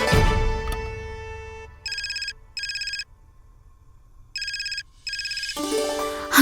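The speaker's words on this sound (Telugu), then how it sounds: "అమ్మా ఫోన్." A phone ringtone chirps in four bright, warbling electronic bursts arranged as two close pairs, clear and fairly loud in a quiet room with no one talking, before music swells at the end.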